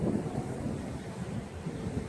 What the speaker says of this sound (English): Man, this wind is crazy out here too.